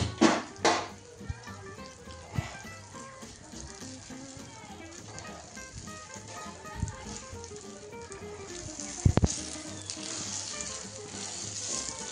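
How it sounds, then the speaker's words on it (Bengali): Washed, drained rice frying in a hot pan for Bengali basanti polao, a steady low sizzle with occasional stirring clatter and scraping, with a voice speaking over it at times. "কিছুক্ষণ চালটা ভাজা হয়ে গেল।"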